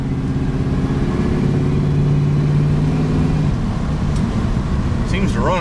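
A dually pickup truck fitted with a four-barrel Quadrajet carburetor accelerating under light throttle, a steady engine hum droning loud and continuous while the truck drives along the road, with a brief voice near the end.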